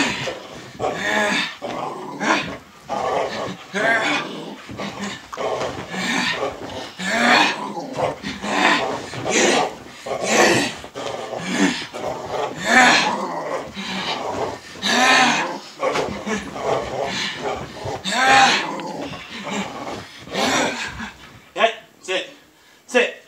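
A dog growls steadily and rumbles while tugging hard on a rope in a tug game, close and loud, with a person talking and urging it on throughout.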